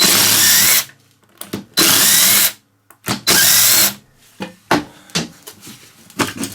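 A power drill removes bolts from the rear roller of a Hayter 48 479B lawn mower, with three long loud whirring bursts alternating with short trigger blips and clicks of handling nearby.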